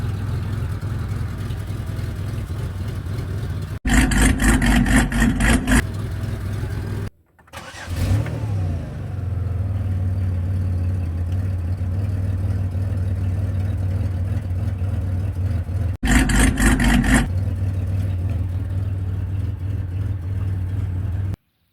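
A cammed 2005 Chevrolet Impala engine runs close by with a steady, lumpy idle, broken by two bursts of louder revving and a brief cutout before the idle resumes.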